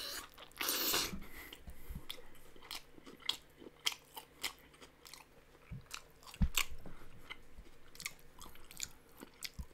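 Someone eats pizza close to the microphone, with soft crunches and wet chewing in an uneven rhythm and scattered sharp bites and mouth clicks over a quiet room.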